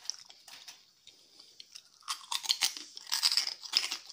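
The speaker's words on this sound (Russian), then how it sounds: "О, хрустит как." Close, crisp crunching as a dry rusk is chewed, with sparse bites at first, then a denser run of loud crackly chews, heard alone without talk.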